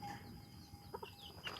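A chicken in a Thai village gives a few short, quiet clucks over low background noise, faint and somewhat distant.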